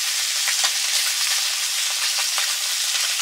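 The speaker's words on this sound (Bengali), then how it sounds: "চুনো মাছগুলো ভাজা হয়ে গেছে, নিয়ে নিচ্ছি" Small chuno fish frying in a pan, a steady loud sizzle with scattered crackles and faint stirring, heard alone without any talking.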